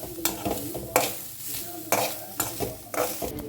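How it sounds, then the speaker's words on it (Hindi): Grated coconut fries in a pan while a spatula scrapes and stirs it, giving rhythmic close scraping strokes over a soft sizzle, with no voices. "अब कोकोनट को ना हल्का सा कलर आने तक इसे फ्राई करते हैं।"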